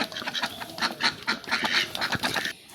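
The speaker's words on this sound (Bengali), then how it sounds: "হাঁসগুলো ছেড়ে দিলাম" Freshly released village ducks quack in rapid, overlapping bursts close by, forming a continuous noisy chorus for a few seconds.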